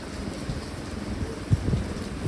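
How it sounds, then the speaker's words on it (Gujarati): Heavy monsoon rain pours down in Ahmedabad as a steady, dense broadband wash with no voices, swelling briefly in a few spots. "સવારના 7 વાગ્યાથી વરસાદ ચાલુ છે, એકને એક ધારે ફૂલ વરસાદ ચાલુ છે"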